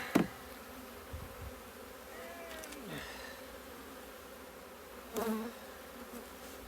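Honey bees buzz steadily around an open hive split, a low continuous drone with individual bees flying close past the microphone, accompanied by a few faint knocks from handling frames.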